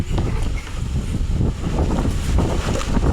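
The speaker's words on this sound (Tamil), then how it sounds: "காற்று தான் அடிக்குது" Wind blowing steadily after a summer rain, a loud, continuous broadband roar with gusty buffeting against the microphone and no voices.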